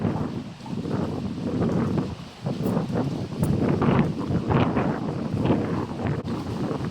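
Strong wind roars steadily across the microphone in broad, rumbling gusts, loud and close, with no voices.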